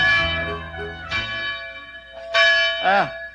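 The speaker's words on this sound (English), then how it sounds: "That's the alarm bell." A village alarm bell rings in clear, resonant strikes with long decaying tones, several spaced peals sounding loud and close.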